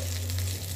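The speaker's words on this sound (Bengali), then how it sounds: "দেখতে পাচ্ছেন কালিটা কিন্তু ভাজা হয়ে গেছে," Onion stalks frying in oil give a steady, soft sizzle with broad high hiss and a low constant hum beneath, quiet and unbroken with no voices.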